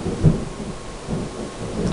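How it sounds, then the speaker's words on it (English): Thunder rumbles low and heavy through a thunderstorm, with deep rolling swells and steady rain hiss beneath them, fairly loud and with no voices over it. "I'm getting a storm here."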